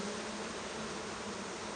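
Honey bees hum steadily at a hive in midwinter, a dense, even buzzing close by with no voices.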